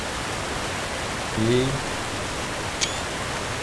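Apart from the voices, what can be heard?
waterfall in the video game Conan Exiles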